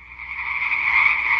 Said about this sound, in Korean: 이게 개구리 소리야. 개구리 소리.